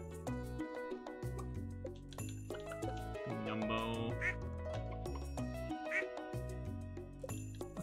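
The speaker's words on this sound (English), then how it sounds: "Ducks do go quack, yes they do indeed." Ducks quacking in the video game Stardew Valley, short nasal calls set within layered game music with chimes and clinking tones.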